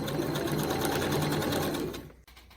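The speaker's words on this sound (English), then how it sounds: "So with regular stitch length, we're just going to sew all the way down here." Sewing machine stitching a dress seam at regular stitch length, a close, steady rapid rattle that runs for about two seconds and then stops.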